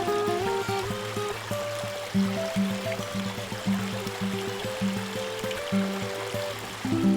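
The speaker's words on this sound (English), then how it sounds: "you can hear the babbling brook and all the changing sounds" A babbling brook at Memorial Waterfall in Texas flows over rocks and gravel, a continuous trickling, splashing wash that rises and falls slightly, with faint pitched tones running underneath.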